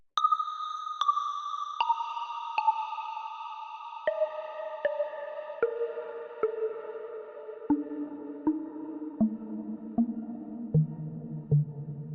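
A Pigments 4 synth preset played through Shimmer reverb with no pitch shifting: a steady run of bright, bell-like tones stepping downward one note at a time, each onset ringing into a smooth, sustained reverb wash, heard alone.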